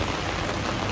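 Heavy rain drums steadily on an umbrella overhead on a wet day along Route 66, a dense, close, unbroken hiss of drops with no voices.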